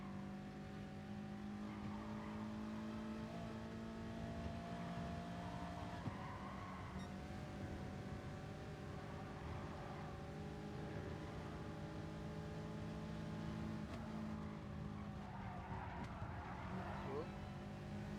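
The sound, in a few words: race cars on circuit in video game Gran Turismo Sport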